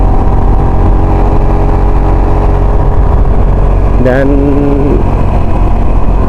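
A 2020 Suzuki GSX 150cc four-stroke motorcycle engine runs with a steady low drone throughout, rising briefly in a short rev near the end, with a voice speaking over it.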